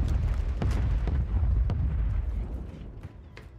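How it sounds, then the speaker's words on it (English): Friendly mortar rounds in the Warzone Rebirth video game, heard as a loud, continuous low rumbling roar of blasts with several sharp cracks and pops, fading somewhat toward the end. "Friendly mortar"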